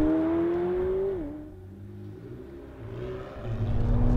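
A 2017 McLaren 720S supercar engine pulls with a steady rising drone, then drops pitch at a gear change and settles into a lower rumble before building again, loud and close throughout.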